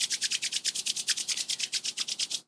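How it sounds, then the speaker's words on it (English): Palms rubbed briskly together to warm them during a breathwork exercise, a steady rhythmic swishing of about twenty quick strokes, close and alone. "Begin to rub the hands together to create heat into the hands."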